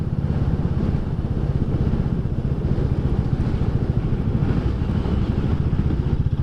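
A 2022 Royal Enfield Classic 350 single-cylinder motorcycle rumbles steadily while being ridden, with a continuous loud low engine thump and wind noise heard from the rider's position and no speech.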